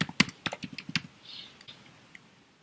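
Typing on a computer keyboard: a quick run of about a dozen sharp key clicks over roughly a second, then a few sparse, fainter taps, close and clear with no talk.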